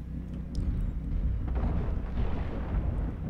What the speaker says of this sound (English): Then I just shot my missiles on accident.